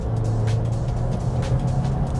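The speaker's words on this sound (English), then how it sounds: "listen to this engine note if you can" An Audi A3 in sport mode sounds off from inside the car, a steady low engine drone with a firm rumbling tone that holds for a couple of seconds.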